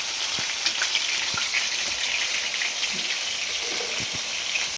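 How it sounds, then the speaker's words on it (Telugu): Chicken pieces frying and roasting in a pan, a dense continuous sizzle like light rain with small pops and crackles, steady and close throughout. "ఇవి జస్ట్ రోస్ట్ లాగా చేస్తున్నాను"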